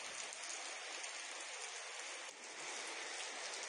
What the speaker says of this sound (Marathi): दोडामार्गमध्ये पावसाच्या सरी बरसतायत, मान्सून दाखल झालेला आहे